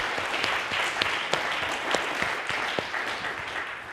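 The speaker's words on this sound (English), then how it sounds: "please join me with a round of applause" Applause from a lecture audience at the University of Maryland runs as a steady, moderate wash of many hands, with a few sharper single claps poking through.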